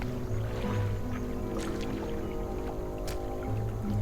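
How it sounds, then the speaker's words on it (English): Gentle water lapping and sloshing against a small stone platform in the fishing game Dredge, a steady close wash with soft squishy splashes and low rumbling ambience throughout. "Waves lap on the platform where you laid the aberration."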